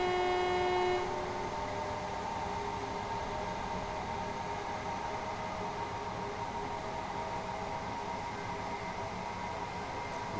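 In Train Sim World on the East Coastway route, a train horn sounds a short, loud blast, then cuts off into a steady engine and rail rumble, with no talking.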